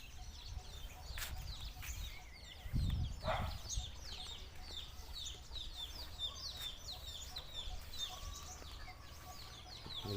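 Native Thai chickens of a traditional breed kept around a rural home, clucking and calling in quick repeated bursts over a quiet farmyard background, with one louder rustle or movement midway.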